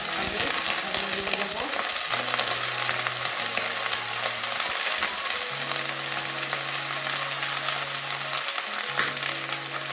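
Spring onions, carrot and potato frying in oil give a dense, steady crackling sizzle at close range, while a faint tonal hum drifts underneath.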